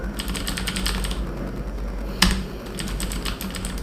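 Mechanical keys on a HyperX Alloy FPS Pro keyboard with Cherry MX switches click in quick, close bursts, with a brief pause and one heavier thump midway before the typing picks up again.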